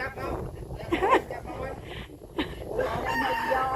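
Chickens and a rooster at a rural Thai village home, with a crow and scattered clucks rising over continuous loud chatter and shouting from people nearby.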